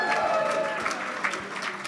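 A live sold-out event crowd breaks into applause, a dense patter of claps with some cheering, steady and fairly distant throughout the short burst.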